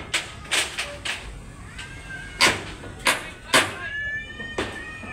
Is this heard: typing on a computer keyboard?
no